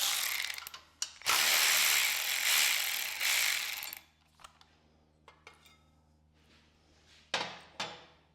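A socket ratchet with a 7/16 socket removes a bracket from a snow blower. A long, loud run of rapid clicking is followed by scattered light clicks and two short closing bursts of ratcheting.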